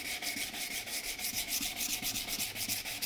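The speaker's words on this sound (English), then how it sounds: "this is essentially just a finer grit of sandpaper." Steady back-and-forth rubbing of finer-grit sandpaper on a surface, with rhythmic strokes repeating continuously and close by, no voices.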